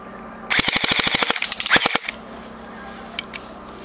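A Cyma Desert Eagle airsoft pistol fires in fully automatic mode, sending a rapid close burst of sharp clicking shots for about a second and a half with a brief pause midway, then a couple of faint clicks.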